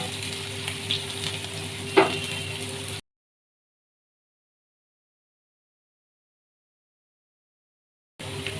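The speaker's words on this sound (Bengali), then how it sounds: "খুব লাল করা দরকার নেই, কিন্তু ভালো করে পেঁয়াজটাকে ভাজতে অবশ্যই হবে" Onions fry in a pan with a soft, steady sizzle and one brief utensil tap, close and fairly quiet, followed by a long stretch of complete silence before the sizzle briefly returns.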